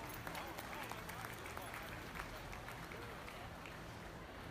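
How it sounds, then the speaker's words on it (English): Faint, steady applause from an audience at a 4H/FFA beef steer show, honoring the young steer exhibitors, a dense patter of clapping that holds throughout. "let's give our steer exhibitors a round of applause"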